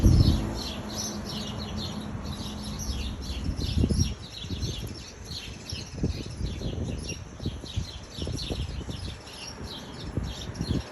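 A small bird chirps repeatedly from near a rooftop outdoors, quick high tweets in a steady series over faint rustling background.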